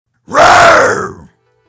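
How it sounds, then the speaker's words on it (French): A cartoon puma wearing a wig lets out a single loud, gravelly roar lasting about a second, swelling quickly and then trailing off, with nothing else around it. "le puma à perruque se rebiffe et rugit sur Balthazar"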